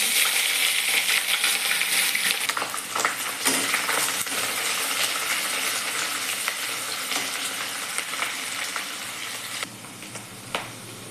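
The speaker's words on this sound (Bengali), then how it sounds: "পেঁয়াজটা একটু হালকা ভাজা হয়ে গেলে আমি দিয়ে দেব মশলাগুলো।" Onions sizzle steadily in hot oil in a wok, along with cumin and bay leaf, a dense bright frying hiss with occasional spoon clinks and stirring taps, close and loud.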